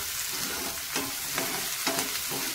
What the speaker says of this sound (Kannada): ಇದು ಎಣ್ಣೆಯಲ್ಲಿ ಈಗ ತುಂಬ ಚೆನ್ನಾಗಿ ಫ್ರೈ ಆಗಬೇಕು